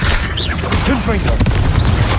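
In Hogwarts Legacy, a Confringo blasting curse goes off as a loud, close boom among continuous crashing combat sounds, with short vocal cries layered over it.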